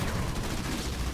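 Suppressive gunfire in the video game Halo Wars 2, a continuous dense barrage of overlapping shots and low booms, loud and unbroken, with no voices.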